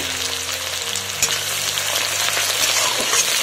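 Chopped onion frying in oil for a Bengali carrot-oil dish, a dense, loud, continuous sizzle close up with a single scrape of a utensil partway through and no talking.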